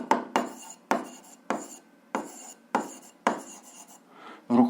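A pen writing on paper while working through a physics equilibrium problem: close, rhythmic scratchy strokes in regular short bursts, one after another, with brief pauses between.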